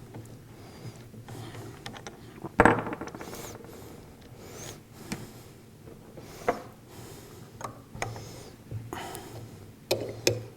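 A 13 mm wrench loosens and removes the inlet studs on a Cat piston pump, with quiet ratcheting, scraping and metallic clicks, and one sharp clank near the start.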